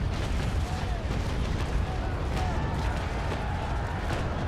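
A warship's cannon broadside in the Naval Action game, a long rolling series of deep booms and gunfire reports that blend into a dense continuous roar, with a voice talking faintly over it.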